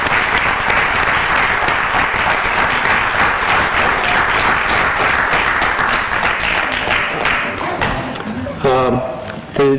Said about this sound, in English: if we just give them a little round of applause for that evening.